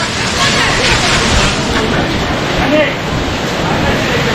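Water rushes along below the path near Kedarnath temple, a loud, constant roar, with crowd voices blended faintly into it.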